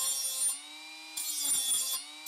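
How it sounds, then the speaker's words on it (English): A pump impeller's fins are trimmed about an eighth of an inch with a power tool, for a drill-powered sump pump built from old car parts: two bursts of high, whining cutting noise separated by a short quieter stretch. "I do need to trim the pump fins just a little bit"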